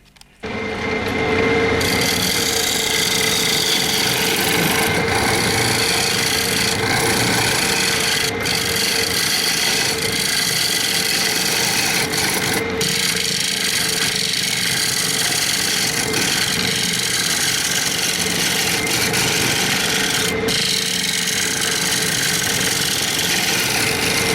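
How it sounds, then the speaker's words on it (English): Yew bowl spinning on a woodturning lathe is cut with a 13mm round carbide cutter, giving a steady loud scraping hiss over the lathe's hum, with a few brief catches along the way. "I'm using a round carbide cutter. I think it's the 13mm, and that's taking it out very nicely."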